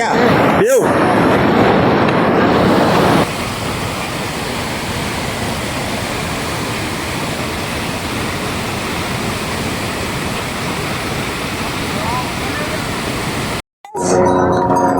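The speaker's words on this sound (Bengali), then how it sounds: "এই যে মন্দাকিনী বয়ে যাচ্ছে" The Mandakini river rushes along the Kedarnath trek in a constant loud broadband roar of flowing water. A brief louder burst opens it, and it cuts out for a moment near the end.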